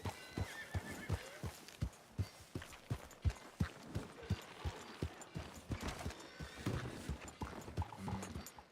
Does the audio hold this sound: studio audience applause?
no